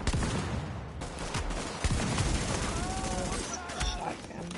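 Repeated shotgun blasts and other gunfire crack through a firefight in the video game The Division, with voices talking over the shooting.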